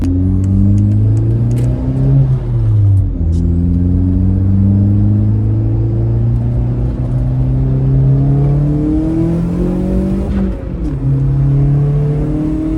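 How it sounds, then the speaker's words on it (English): A car wash dryer blasts air over a Mk4 Jetta, a loud, close, steady roar with a tonal whine that rises and falls as the blower works, and no one speaks. "Now that is how you dry a car off."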